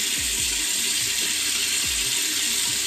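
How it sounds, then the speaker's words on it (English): Water from a running tap rinsing a neck after a straight razor shave, a steady full hiss throughout with a few low knocks and clunks underneath. "I rinse my neck."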